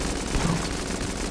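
Rapid gunfire in the video game Enter the Gungeon, a dense burst of overlapping shots fired in every direction, steady and close throughout the short moment without speech.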